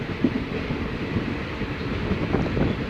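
A train rolling along the tracks near Lumding, Assam, producing a steady, continuous rumble with faint rhythmic wheel clatter and some wind noise throughout, with no talking.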